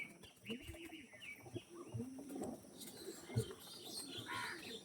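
Purebred-line pigeons give soft, intermittent cooing calls with a few chirps and faint wing sounds. The coos are quiet against low background noise.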